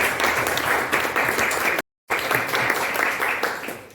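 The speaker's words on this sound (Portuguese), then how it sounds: "Uma salva de palmas para a nossa Pedro." A church youth event audience applauds a guest, a steady, full wash of clapping that briefly cuts out to silence partway through before resuming just as thick.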